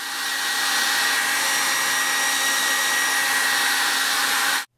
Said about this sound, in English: drying him off with a blow dryer